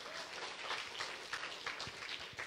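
A church congregation claps for Jesus in a quiet, distant patter of many hands that flickers unevenly throughout.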